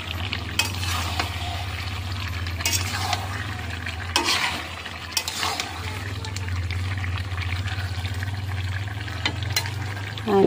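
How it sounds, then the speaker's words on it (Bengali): Meat sautéing in a pan, a continuous loud sizzle broken by repeated scraping and stirring strokes throughout. "মাংসটা কষানো হচ্ছে"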